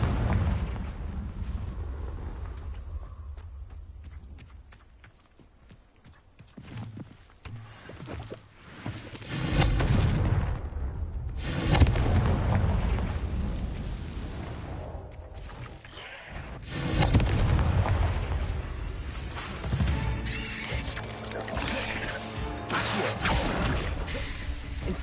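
Confringo explosive spell blasts from Hogwarts Legacy, loud booming bursts arriving in heavy waves with rumbling low-end tails, separated by brief quieter gaps.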